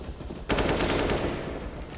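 A rapid burst of automatic gunfire rings out in a Counter-Strike match on the Train map, sharp, loud and alone, with no talk over it.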